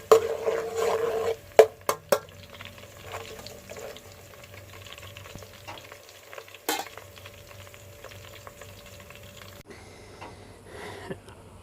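Chopped onions frying in a pan for chicken pulao, with a soft steady sizzle and a few sharp clinks of a utensil stirring near the start, quiet and without talk.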